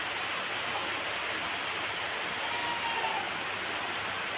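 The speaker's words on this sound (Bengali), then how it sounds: "দেখো কি জোরে জোরে বৃষ্টি পড়ছে" Heavy rain pours down outdoors in a steady, dense hiss, uniform and unbroken throughout, with no voices over it.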